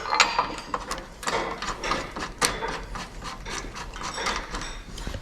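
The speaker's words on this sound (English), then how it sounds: "Throw some bolts in." Metal bolts being threaded and ratcheted into a Jeep JL rear bumper in a Michigan garage, with anti-seize applied; a series of clicking, ratcheting mechanical sounds at close range, irregular over several seconds with no talk.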